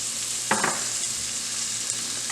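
Onions frying in a pot with dry garam masala spices and chopped garlic just added, giving a steady close sizzle with a brief stirring scrape near the start and no talking.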